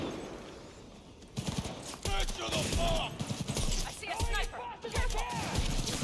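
Enemy sniper fire in a Cyberpunk 2077 firefight, loud sharp shots and bursts crackling in irregular clusters over a dense background of combat noise, with voices talking in between.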